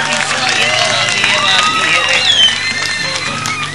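An audience applauding loudly and continuously, a dense wash of clapping and crowd noise with whistles and shouts running through it, close and steady from start to end.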